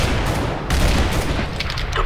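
A grenade blast in CS:GO, loud and close, with a dense rumbling burst and crackling gunfire-like noise filling the short stretch.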